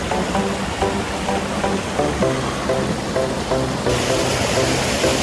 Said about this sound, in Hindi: This is the waterfall.